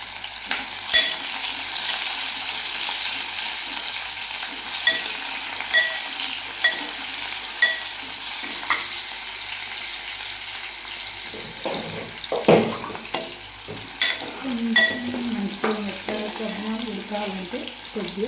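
Onions frying in a pan with green chillies, a continuous close sizzle with intermittent stirring scrapes and knocks, plus some watery or utensil sounds in the second half.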